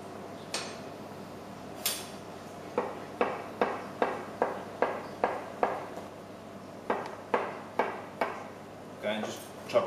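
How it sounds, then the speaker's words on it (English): Knife chopping salad ingredients into rough pieces on a board for a tea-smoked salmon salad, a steady run of about fifteen sharp, close taps at an even rhythm with brief pauses, no talking. "just chopping it into rough pieces"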